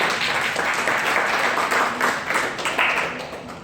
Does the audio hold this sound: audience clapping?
yes